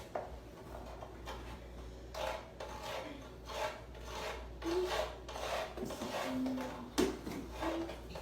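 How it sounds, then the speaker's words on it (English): Spice, likely nutmeg, rubbed back and forth on the fine side of a hand grater during outdoor baking of a Jamaican potato pudding, giving a steady rhythmic rasping scrape that repeats for several seconds, fairly faint and close. "Get a dry side, the little fine side. Grate it till you think it's half teaspoon or a teaspoon."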